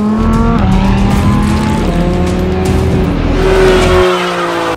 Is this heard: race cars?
yes